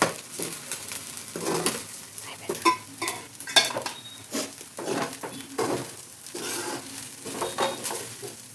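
Mint rice with squeezed lemon is stirred in a pan, giving close, irregular scraping and clinking spoon strokes with faint sizzling, and no voices.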